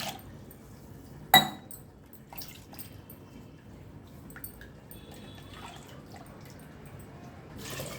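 Water splashing and trickling as a vessel is rinsed and poured out while cooking mutton rasam, with drips, a sharp clink of metal or glass, and a fuller pour at the close.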